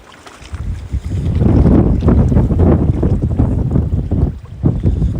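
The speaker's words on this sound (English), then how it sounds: "It's been super windy here this weekend" Strong wind buffets the microphone outdoors by the water where someone is checking for smelt, a loud, close, rumbling roar that swells and gusts steadily throughout.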